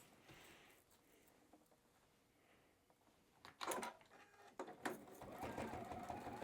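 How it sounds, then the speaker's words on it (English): A sewing machine stitching fabric for a chef hat, starting after quiet handling noises with short bursts and then running steadily, close and fairly faint. "I'm just going to slide it up in here to my sewing machine."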